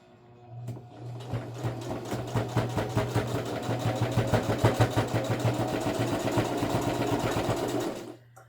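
A sewing machine stitches a makeup bag, its needle pounding in a fast steady rhythm with a motor hum underneath, close and continuous for several seconds before stopping, with no voices.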